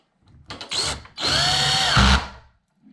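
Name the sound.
power drill driving hinge screws into a door slab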